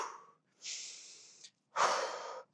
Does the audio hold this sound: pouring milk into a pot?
no